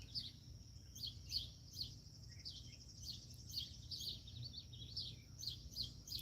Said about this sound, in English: A lot of birds. I love that sound.